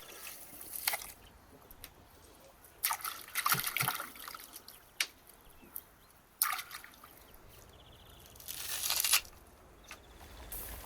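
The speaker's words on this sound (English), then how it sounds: "Now while that's cooking, let's wash the dill." Running water from a kitchen tap while fresh dill is washed, heard as faint trickling and splashing in several short bursts, with quiet gaps between them and no talking.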